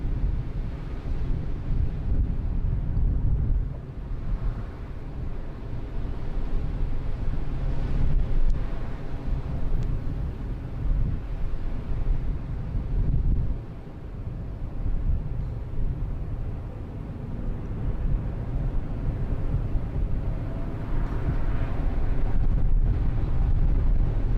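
Strong gusty wind at Sydney Airport, a continuous low buffeting rumble against the microphone that swells and dips over about twenty-five seconds with no voices.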